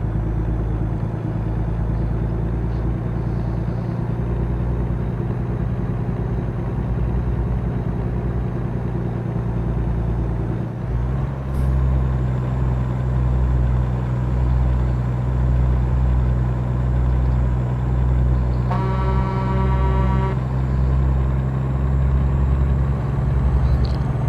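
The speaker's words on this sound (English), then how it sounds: "I'm driving a Peterbilt 579" A Peterbilt 579 truck in American Truck Simulator drones steadily with a loud, low engine hum, shifting pitch about halfway through. A brief tonal chime sounds near the end. Nobody talks.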